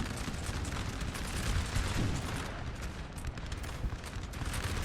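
Massed musket volleys crackle continuously across a Napoleon Total War battlefield, dense overlapping shots forming a loud, rolling din with no pauses.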